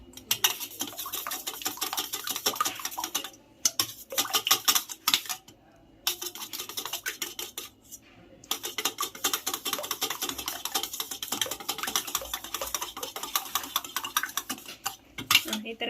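Eggs, five of them, whisked in a bowl with a utensil for egg fried rice, a steady stream of close, rapid clinking and scraping with a few brief pauses and no talk.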